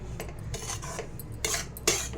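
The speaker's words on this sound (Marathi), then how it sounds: "अशा पद्धतीने आपण एक एकसारख्या रवा भाजून घ्यायचा आहे" Semolina is dry-roasted and stirred in a pan with a spoon, giving a series of close, sharp metallic scrapes and clinks in an uneven rhythm, with no voices.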